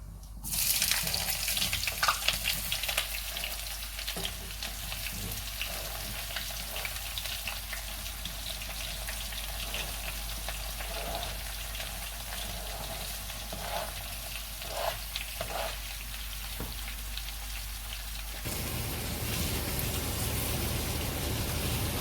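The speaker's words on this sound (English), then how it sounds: "now we're going to put our sliced onions" Sliced onions for a home-style Indian chicken curry fry in a pan over red chili, giving a loud, steady sizzle that runs throughout, with brief crackles and a slight drop in hiss near the end.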